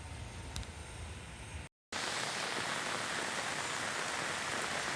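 Heavy rain pours steadily near a school in Karanjveri, forming a loud, dense wash of noise. There is a brief cut of silence, and then the downpour continues unbroken.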